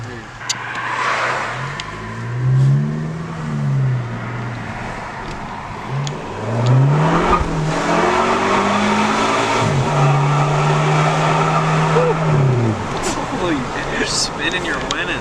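MK7 Golf turbocharged engine with a newly fitted turbo elbow revving repeatedly, rising and falling swells close by, with people talking over it.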